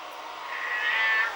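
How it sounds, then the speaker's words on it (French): A house cat gives one drawn-out, rising meow, close and fairly loud against a quiet background, alone without any talk. "mon chat qui miaule"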